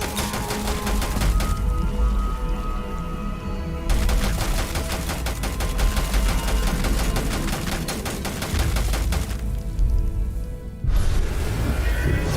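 Sustained automatic gunfire in the video game Starfield: dense rapid bursts that blast almost continuously, with a few brief pauses and heavy low thumps, loud and close.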